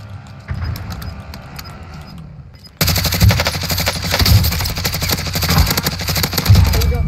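Rapid automatic gunfire in Call of Duty Warzone, loud bursts of machine-gun fire dense from about three seconds on, with quieter shots before, and game sounds layered throughout.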